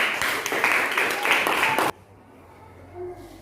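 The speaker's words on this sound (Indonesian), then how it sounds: "Ya, tepuk tangan dulu anak-anak." Schoolchildren clap their hands together in a classroom, a dense burst of applause that stops abruptly partway through, leaving a quiet room with faint murmurs.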